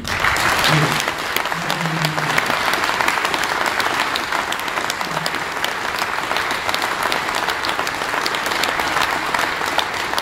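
An audience at a regional party conference in Arnstadt, Thuringia claps loudly and continuously, a dense wash of applause with a few brief murmurs near the start.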